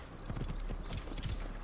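In Assassin's Creed Origins, a horse gallops with quick, rhythmic clip-clop hoofbeats at moderate volume, heard alone throughout the short stretch.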